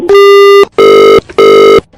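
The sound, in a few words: phone line tone after a call got cut off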